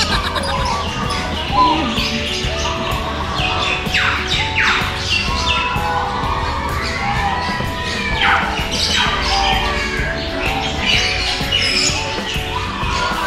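Many birds squawk loudly and continuously in an aviary at a bird park, harsh overlapping calls and chirps up close against a busy background, with people faintly talking beneath.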